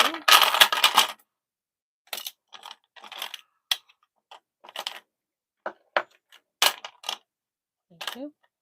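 Story dice are rolled for ASMR: a long initial rattle, then a run of short, crisp clicks and clatters as the dice tumble and settle, close and quiet against silence.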